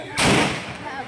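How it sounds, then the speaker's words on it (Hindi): A rifle fired during firearms training: one loud, sharp report that rings out and fades over the following second, with voices present. "वीडियो में दिख रहा है कि एक के बाद एक खुलेआम फायरिंग की जा रही है।"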